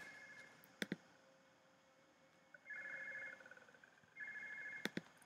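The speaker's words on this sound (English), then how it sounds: "Phone." A telephone rings faintly in two steady tonal bursts inside a quiet room, with a few soft clicks before and between the rings.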